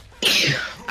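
A single sharp, breathy sneeze bursts out close to the mic, brief and loud against a quiet background.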